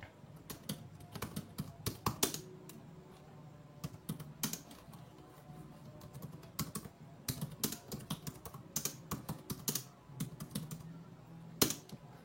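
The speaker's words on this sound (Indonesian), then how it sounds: "kalau kita mengetik di Word seperti ini contohnya" Steady typing on a Goojodoq wireless keyboard, close and clear, with irregular keystroke bursts and occasional louder taps, no talking.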